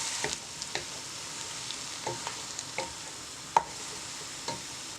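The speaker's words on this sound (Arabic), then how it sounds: "غادي نضيفو الشامبينيون حتى هو نقليوه واحد شويه مع هذيك البصله" Mushrooms, onion and potatoes fry in a pan with a steady, even sizzle, broken by light clinks and scrapes of stirring at irregular moments, close and without talk.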